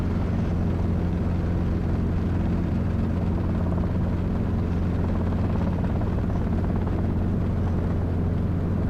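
A Robinson R22 helicopter in flight during a steep approach training exercise, its rotor and engine drone steady and loud throughout, heard from inside with no talk.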